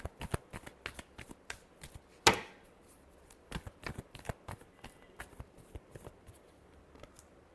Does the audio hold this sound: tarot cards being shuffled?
yes